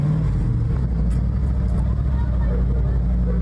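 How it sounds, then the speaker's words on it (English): Car engine idling steadily with exhaust burning off, a low continuous motor drone close by, with someone talking over it. "Yeah, motor sounds good."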